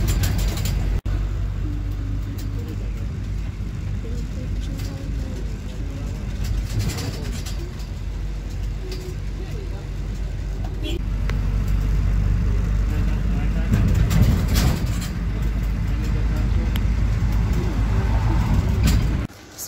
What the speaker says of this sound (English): So I'm in the bus.